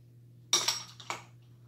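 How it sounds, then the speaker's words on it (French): A spoon stirs baking powder and oat flakes in a bowl, making a few quick, close metallic clinks and scrapes against the bowl in a short burst after a near-silent start. "je mélange ma levure chimique et le flocon d'avoine"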